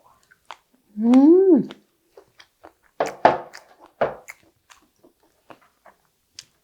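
Close chewing of marinated LA galbi beef short ribs, soft wet squishy bites and smacking mouth sounds coming in bursts with short pauses, plus a brief vocal hum near the start.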